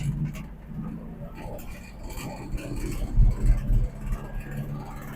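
A 1961 VW Beetle, brakes failing, driving along in second gear, its low engine drone steady and close with a few louder surges midway.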